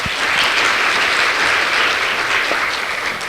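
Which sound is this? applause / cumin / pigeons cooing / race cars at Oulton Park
applause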